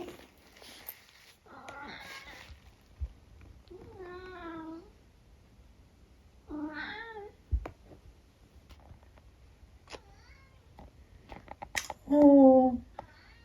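A house cat meowing several times in short, distinct calls spaced apart, close by, between quiet moments with small clicks and a person talking softly.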